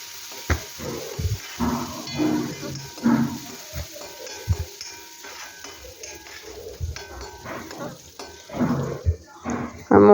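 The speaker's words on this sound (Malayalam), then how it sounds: "ചീനച്ചട്ടിയിലേക്ക് 1 സ്പൂണ് നെയ്യ് ഇട്ട് കൊടുത്തു. ഇനി കുറച്ച് ഞുറുക്കിയ കാഷ്യൂ നട്ടും കൂടി ഇട്ട് കൊടുത്തു." Chopped cashew nuts fry in a spoonful of ghee in a pan, with intermittent scraping and stirring clatter over a soft, uneven sizzle, close and moderately loud.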